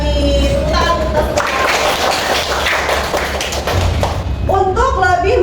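A classroom of students clapping their hands together in a rhythmic burst of sharp taps and thuds, loud and close, with voices chanting before and after.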